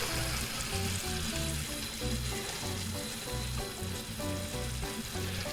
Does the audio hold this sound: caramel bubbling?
yes